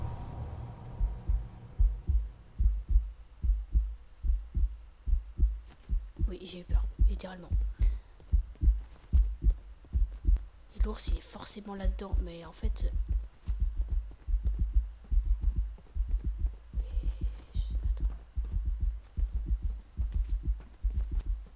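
A steady, deep heartbeat thumps in a Fortnite horror map, a low double-pulse throb repeating evenly throughout at the same loudness, while a player speaks in brief bursts over it.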